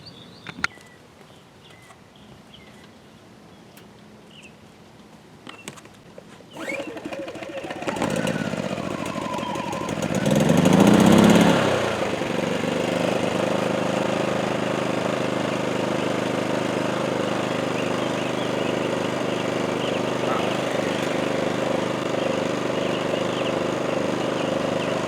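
A PowerSmart 2350W inverter generator is pull-started after some handling noises, a rope yank leads to the engine catching and surging, then settling into a steady loud running drone.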